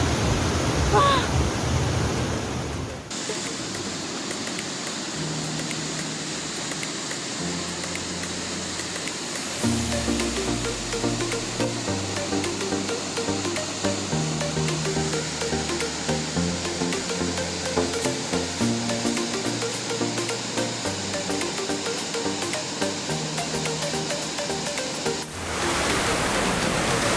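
Heavy rushing water roars steadily from the roughly 50-metre Sringo-Ringo waterfall in Paropo, a dense continuous wash that fills the whole stretch, with music playing over it for most of its length.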